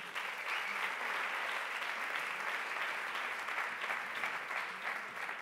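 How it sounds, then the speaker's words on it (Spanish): Sustained audience applause at the Premis Ones Mediterrània awards ceremony, an even, dense patter of many hands clapping throughout, fairly soft and without talk over it. "un aplaudiment, sisplau, per ell també."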